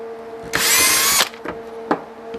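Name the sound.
power drill drilling holes in magnet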